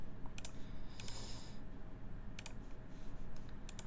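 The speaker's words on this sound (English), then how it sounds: "here are the modifier keys, and I'll just go over the whole board actually. But this sounds really good." Modifier keys on a mechanical keyboard are pressed in short clustered bursts of sharp, close clacks separated by pauses, over a steady low background hum.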